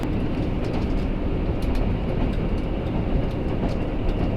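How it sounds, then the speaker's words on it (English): Steady rumbling of a train rolling along rails, a continuous low roar with faint rhythmic clatter, heard from inside a carriage. "Or you can at least tell we're on a train. We're on the train."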